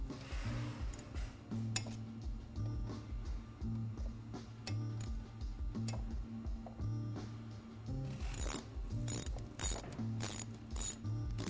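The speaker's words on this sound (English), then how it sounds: "you're going to want to tighten up your caliper bolts" A ratchet tightens the brake caliper bolts on a sportbike during a Galfer rotor install, giving off rapid clicking pawl bursts in repeated strokes, close and fairly quiet, with short pauses between turns.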